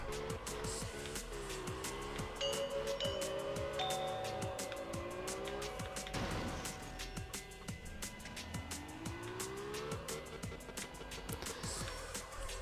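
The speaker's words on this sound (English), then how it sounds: "Drift between the train cars." A car drifts in the racing video game Absolute Drift, with a constant engine whine rising and falling through gear changes and a thin tire squeal laid over it, steady and moderately loud.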